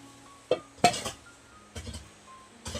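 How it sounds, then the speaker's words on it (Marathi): A heavy iron kadhai set down on a clay wood-fired chulha gives a few sharp metallic clinks and knocks, a couple of separate impacts spaced over a few seconds, fairly close with quiet room noise between. "कढाई मस्त बसली रे चुलीवरती"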